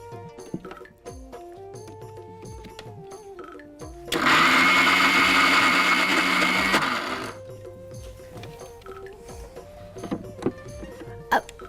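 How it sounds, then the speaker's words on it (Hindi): Kitchen mixer grinder grinding white chickpeas into a paste, a loud, steady motor whir lasting about three seconds, preceded and followed by quieter clinks and kitchen handling sounds. "सबसे पहले मैं मिक्सी की तरफ जाऊंगी"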